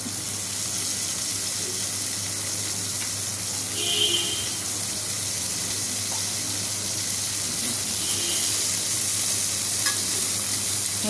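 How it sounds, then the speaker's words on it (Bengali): Bitter gourd slices frying in oil previously used to fry fish, a steady even sizzle with light stirring and a few faint clinks, no talking. "এবার ওই মাছ ভাজা তেলের মধ্যেই আমি এখন উচ্ছেগুলো ভেজে নেব"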